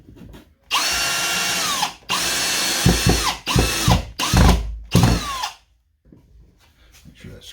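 A power drill drives a screw into wood in several close, loud bursts, the motor whining up and down between short pauses, with a few low thuds as the screw seats, and quiet afterward.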